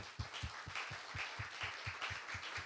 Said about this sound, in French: Est-ce qu'on peut applaudir le Seigneur, amen?